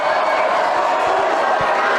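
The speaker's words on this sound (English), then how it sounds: "This crowd getting loud." Football crowd at a varsity high school game between Omaha North and Papillion La Vista South, a loud, steady roar of cheering that holds throughout without a break.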